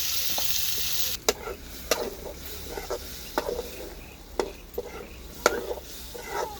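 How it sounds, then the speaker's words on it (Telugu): Chicken head curry sizzles steadily in a pan while a spoon is stirred through it, giving a string of sharp scraping knocks at an uneven pace over the constant frying hiss. "ఇలాగైతే కలిపేసుకుందాం."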